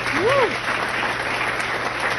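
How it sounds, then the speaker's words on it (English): Gala audience giving a round of applause: a sustained, even wash of many hands clapping throughout, with a brief voice rising over it at the start. "Can we give him a round of applause?"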